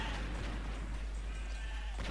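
Sheep bleating in the video game Trakie Lopi 3D, a couple of short bleats over a steady low game hum, moderately close with no talk.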